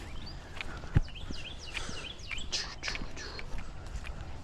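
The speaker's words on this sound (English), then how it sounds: "I love hearing the birds too." Birds chirp and trill along a forest trail, several short calls scattered over steady footsteps, fairly faint and alone without talk.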